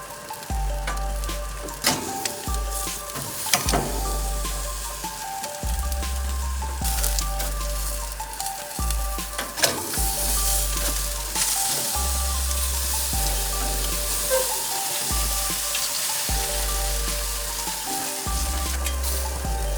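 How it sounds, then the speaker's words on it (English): A T-bone steak sears over direct grill heat with a strong, continuous sizzle, close and loud, broken by occasional sharp crackles and pops. "now I crank the temperature and move the steak right onto direct heat to caramelize the surface on all sides"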